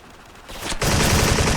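A G3A3 battle rifle in an online shooter game opens fire after a quiet moment, a sudden loud, sustained burst of rapid shots filling the rest of the short stretch.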